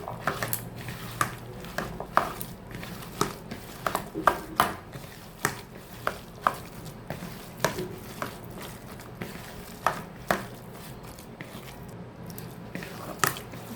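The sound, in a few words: mixing jackfruit seeds with spices in a bowl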